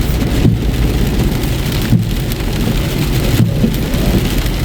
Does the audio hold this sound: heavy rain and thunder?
yes